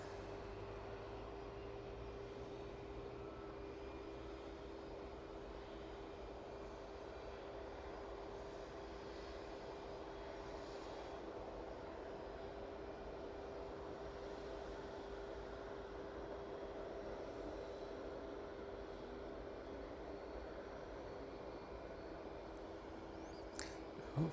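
A Boeing 757 taxis on the ground at East Midlands Airport, a faint, distant, steady engine rumble and whine holding for over twenty seconds with no break.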